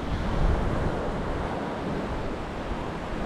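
Ocean surf at Hac Sa black sand beach in Coloane, Macau, rushes in a continuous broad wash of waves, close and loud, with wind buffeting the microphone.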